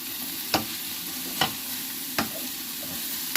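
Bacon, mushroom, garlic and onion frying in a pan, a constant close hiss of sizzling fat broken by four evenly spaced soft knocks of a utensil against the pan.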